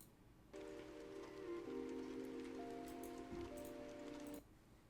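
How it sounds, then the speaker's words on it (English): Steady rain hiss blends with soft sustained Minecraft music tones, holding quietly for about four seconds before cutting off, with no talking. "My Minecraft music with rain."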